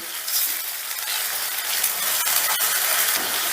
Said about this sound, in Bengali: পেঁয়াজ বাটাটা দু তিন মিনিটের মতন ভালো করে ভেজে নিলাম